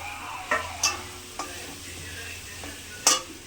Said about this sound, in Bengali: হলুদ দিলাম, চিনি দিলাম, ইলিশ মাছের মাথাগুলো দিয়ে দিলাম।